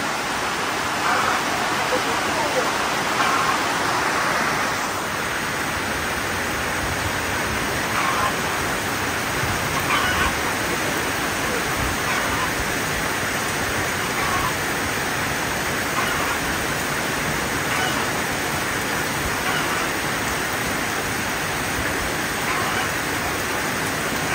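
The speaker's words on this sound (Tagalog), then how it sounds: "Ang lakas ng ulan." Heavy rain pours down in a dense, unbroken hiss that stays loud and even throughout, with faint voices surfacing now and then beneath it.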